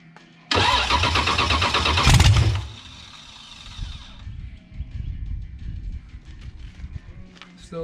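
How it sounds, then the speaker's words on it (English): A blown, alcohol-fueled T-Bucket hot rod engine fires up with a loud roaring burst that holds for a couple of seconds, then settles into a lumpy, uneven idle that stays near and prominent. "And I'm going to turn the ignition on."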